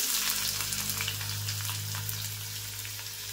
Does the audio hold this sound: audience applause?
no